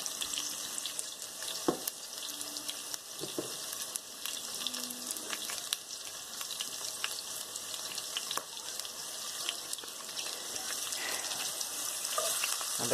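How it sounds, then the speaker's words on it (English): Onions frying in a pot for beef stew, a steady soft sizzle and hiss running throughout with scattered light clicks and scrapes of stirring, close and low in level, no voices. "I'm basically going to stir these around until the onions become translucent"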